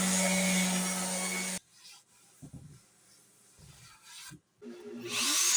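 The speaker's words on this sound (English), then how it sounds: "So I do that with a little sanding" A steady loud sanding whir runs for a moment and then stops, followed by soft intermittent rubbing and scraping sounds before the whir returns.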